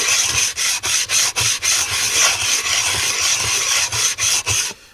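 Coarse sandpaper rubs over a natural whetstone in quick, regular back-and-forth strokes, about three per second, giving a close, loud, gritty rasp that pulses steadily and then stops.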